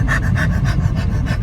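A person's voice imitates the heavy, rhythmic breathing of an animal heard near woods, a run of loud close panting huffs repeating about every quarter second.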